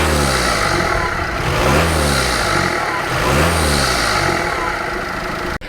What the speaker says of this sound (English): I've still kept my ram air induction kit, which still sounds amazing